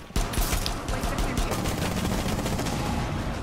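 Rapid video game gunfire in a shooter, a dense, loud burst of overlapping shots running continuously with sharp transients throughout, mixed with game noise.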